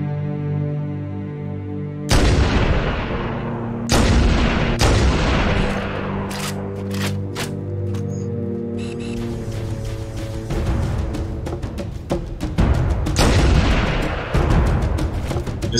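Repeated sniper rifle shots ring out in Halo CE Anniversary on Legendary difficulty, several loud spaced cracks with booming decays, then a denser rapid volley of gunfire and blasts over a continuous hum.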